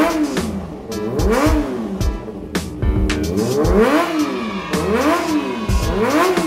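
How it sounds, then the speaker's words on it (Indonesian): A Kawasaki Ninja ZX25R motorcycle engine revs repeatedly in GTA 5, rising and falling in pitch in loud waves, with the rapid-fire whine climbing through several surges over a steady background. "Ini sih motor baru, Ninja ZX25R."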